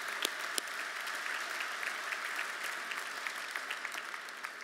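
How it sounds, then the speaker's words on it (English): An audience at an athletics hall of fame gala claps together as a soft, continuous patter, with a few sharper individual claps standing out from the spread-out crowd. "So give yourselves a round of applause for being here"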